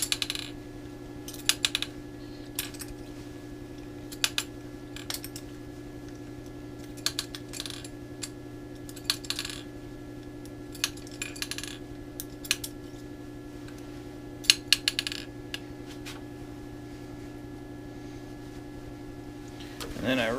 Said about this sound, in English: Then I just crack them out of the fixture and flip them.